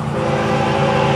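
FEC109 freight train with hopper cars on the head end rolls past at Michigan Street, a steady close rumble of wheels and cars with a low droning hum and no voices.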